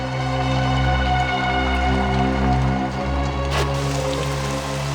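Steady rain falls in a continuous wash, with a low droning hum running underneath the whole time and a brief brighter splash near the end.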